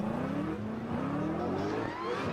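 A drift car revs on a race track at a Croix-en-Ternois drift round, its engine whining and climbing in pitch at a moderate distance, with no talk.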